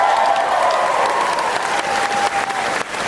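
An audience claps during a conversation event with Frank Oz at Star Wars Weekend at Disney World, a dense, loud, sustained wash of applause lasting about three seconds with no talk over it.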